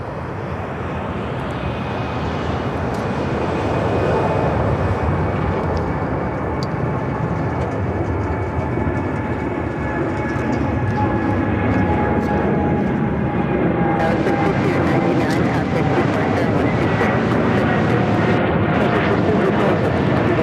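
A United Airlines Boeing 787 Dreamliner begins its takeoff roll at Chicago O'Hare, a steady distant jet roar with a thin whining tone that builds slightly, alone without speech.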